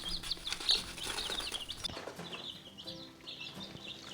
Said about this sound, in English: I'm very excited about the black australorp chicks.